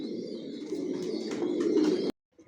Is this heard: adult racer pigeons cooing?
yes